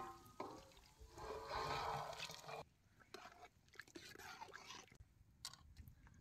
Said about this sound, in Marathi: आता हे परातीतलं गरम झालेलं पाणी आता हे चिकन मध्ये ओततो.